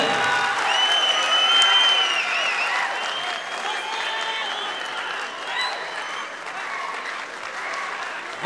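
Sustained applause from a large audience at an ACB 34 MMA fight event, steady and dense throughout, with faint whistles and cheers mixed in.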